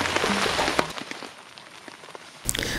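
Heavy rain drums steadily on a camping tent with a flysheet, a dense continuous patter that eases briefly midway before surging again near the end; no talking is heard.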